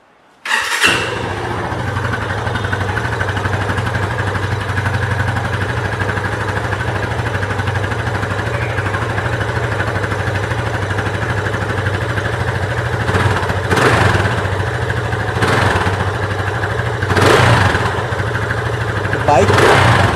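A Yamaha FZ25 motorcycle with a midship sporty muffler starts and settles into a steady idle close by, with several sharp throttle blips near the end.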